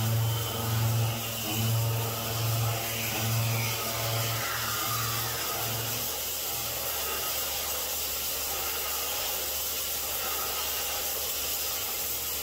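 Milling machine high-feed helixing a 4.0-inch diameter hole, a continuous loud hissing, whirring cut with a pulsing low hum that fades after several seconds, steady and close.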